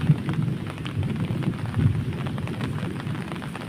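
Heavy rain pours steadily in the Konkan countryside, a dense continuous hiss with low rumbling underneath that suggests thunder, loud and close with no voices.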